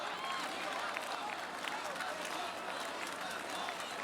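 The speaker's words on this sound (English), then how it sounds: "Well, the crowd is loving this. They're responding to his energy." A large outdoor crowd at an American Ninja Warrior finals course in Venice Beach cheers and applauds steadily for a competitor, with a commentator talking over the continuous roar.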